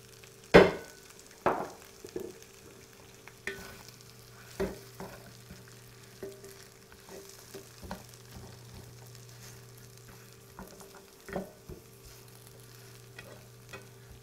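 Onion and garlic fry quietly in a pan ahead of slow-cooking lamb knuckles, with a soft steady sizzle broken by several sharp stirring scrapes and knocks spread across the stretch, nobody talking.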